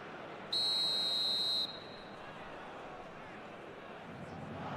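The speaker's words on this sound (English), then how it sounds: "Whistle goes, and we start the second half." Referee's whistle in the eFootball video game gives one shrill, steady blast of about a second over a soft crowd murmur, while commentary voices carry on around it.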